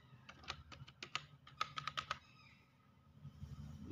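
Quick, light keystrokes on a computer keyboard, a burst of about a dozen clicks in uneven rhythm, close and fairly quiet, then a pause.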